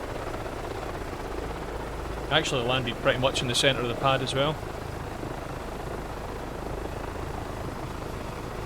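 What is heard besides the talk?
helicopter engine in a video game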